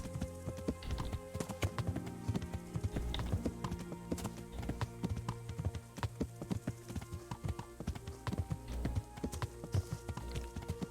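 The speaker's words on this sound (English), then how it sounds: "It's nice being able to get around" Steady clip-clop of a horse's hooves trotting in the video game Kingdom Come: Deliverance, a continuous rhythm with faint tapping clicks mixed in at a low, even level.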